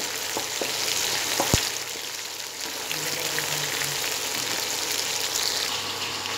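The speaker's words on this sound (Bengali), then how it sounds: "আমি 2 মিনিট হাই টেম্পারেচারে মানে হাই হিটে এটা ফ্রাই করব।" Red chillies and chicken frying on high heat in a pan, a steady close crackling sizzle with a few sharp clinks of a utensil early on, continuous with no talk.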